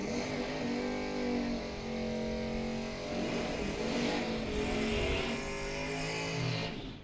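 Engine noise at the starting line of a drag race at a Mutt and Jeff bracket event, with loud sustained idling and revving from race cars, steady and close throughout.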